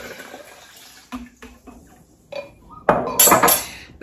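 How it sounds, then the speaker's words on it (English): Filtered water is poured onto soaked walnuts in short splashing bursts with brief pauses and a louder final stream near the end, close by. "we're going to add 4 cups of filtered water"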